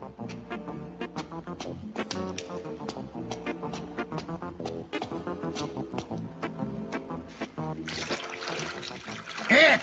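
Water spills over the rim of a filled container as a gold crown is submerged, a gushing splash arriving in the last two seconds after a stretch of music and voices.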